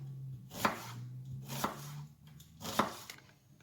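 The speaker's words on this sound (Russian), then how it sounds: "Я нарезаю лук кубиками, как на обычную зажарку." Three crisp knife chops dicing an onion on a cutting board, slow and evenly spaced, close and clear with no talking.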